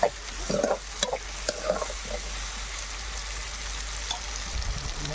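Onions sauté in a pan as a spoon stirs them, giving a steady close sizzle with scraping and clinking stir strokes, busiest at the start.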